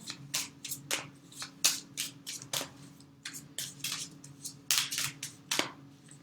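An oracle card deck being shuffled by hand, heard as a close run of quick riffling bursts and soft card slaps in an uneven rhythm, with no one talking.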